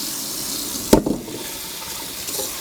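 Tap water splashes briefly as a scrubbed watermelon is rinsed under a faucet at a sink, one short close gush followed by faint trickling.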